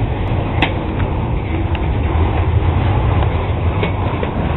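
A hotshot freight train passes through a Baltimore rail yard, giving a steady, loud, broadband rumble throughout with faint intermittent clicks and metallic clanks.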